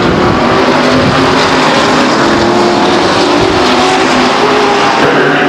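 Race cars roar loudly and continuously down the backstretch at Stockton 99 Speedway, a dense, unbroken engine drone with no gaps, heard close and steady throughout.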